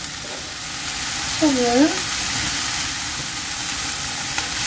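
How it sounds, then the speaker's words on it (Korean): Cabbage, onion and carrot stir-fry in a hot oiled pan with a loud, continuous hissing sizzle, while a voice briefly speaks over it. "골고루 섞어가며 한 1분 정도 볶아줄 거예요."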